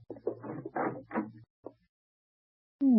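A door in a 1940s radio drama creaks open onto a storeroom, with a drawn-out groaning creak at the end, following earlier scraping and rattling handling noises and a brief knock-like tap.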